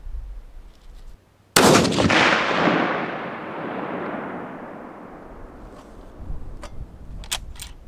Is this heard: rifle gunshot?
yes